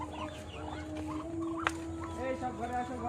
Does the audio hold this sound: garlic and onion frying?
no